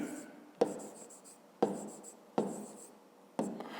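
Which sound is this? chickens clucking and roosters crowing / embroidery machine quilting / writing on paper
writing on paper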